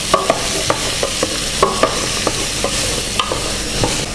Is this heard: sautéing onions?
yes